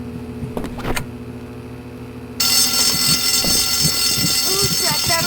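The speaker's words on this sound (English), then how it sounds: "Who set that alarm off?" A fire alarm in the video game Bully suddenly starts ringing and keeps going loud and continuous, with a shrill, dense bell-like tone, while voices talk beneath it.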